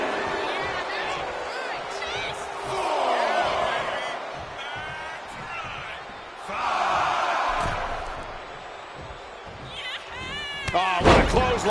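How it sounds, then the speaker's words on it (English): A forceful clothesline lands in the WWE 2K25 wrestling video game as a heavy slam and thud over a roaring arena crowd, with a commentator talking throughout. "Oh, what a clothesline. Forcefully delivered."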